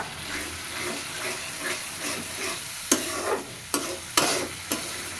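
Spices sizzling and frying in a pan for lentil and fish cooking, with soft stirring scrapes and several sharp clinks of a spoon against the pan near the end, close and moderate in level.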